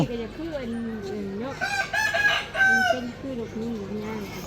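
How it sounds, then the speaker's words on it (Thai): A peacock calls repeatedly in a loud, wavering, honking cry, with a brief louder shriek midway; faint background sounds throughout. "นกยุง"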